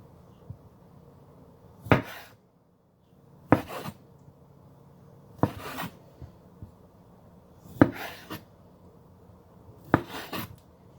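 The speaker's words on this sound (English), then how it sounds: "I'm actually just going to go ahead and cut them into quarters" A knife cuts small items into quarters on a board for a tuna salad, five distinct close chops spaced about two seconds apart over a quiet background.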